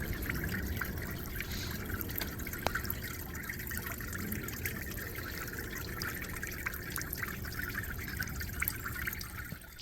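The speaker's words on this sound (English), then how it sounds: "this one is a really nice one as far as the kind of trickling water feature" A garden water feature trickling and dribbling steadily, with a soft continuous splashing and occasional small drips, quiet and close, with no voices.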